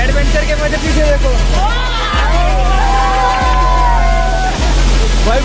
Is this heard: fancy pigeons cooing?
no